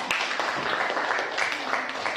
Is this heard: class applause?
yes